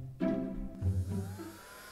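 A cheap mini vacuum cleaner bought on Amazon runs close by with a thin, buzzing motor whine and a wavering pitch, starting abruptly and continuing loudly throughout.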